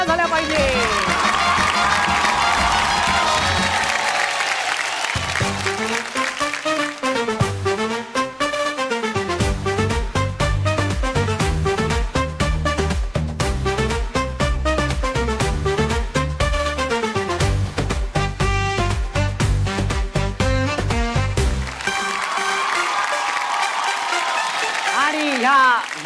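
A television show audience claps and cheers loudly for a long stretch, the dense applause continuing under a loud music track with swelling chords and beats, fading back to clapping and crowd noise at the end.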